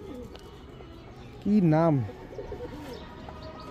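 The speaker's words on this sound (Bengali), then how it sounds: "নারায়ণগঞ্জের কবুতর, সুন্দরী কবুতর একটা জোড়া" A pair of fancy pigeons in a Bangladeshi loft in Narayanganj gives one short, loud cooing call lasting about half a second, while people talk nearby before and after.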